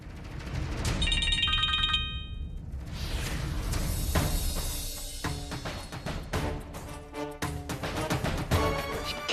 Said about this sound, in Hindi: Purvi please pick up the phone.